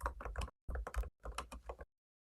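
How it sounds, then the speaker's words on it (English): Bursts of typing on a computer keyboard come in three quick clusters of clattering keystrokes, fairly close and clear, separated by brief silent gaps. "Oh, I can hear you typing away."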